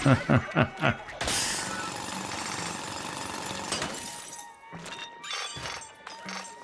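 Drilling into a crystal in the video game Splatoon Raiders: a few sharp thumping hits give way to a continuous grinding, rattling drill noise, then ringing shatter-like bursts and scattered chimes.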